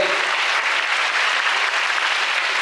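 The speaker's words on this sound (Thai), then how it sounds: "ปรบมือให้กับตัวเองนะครับ" Dense, continuous applause from a fan meeting crowd clapping for themselves, loud and even throughout with no voices on top.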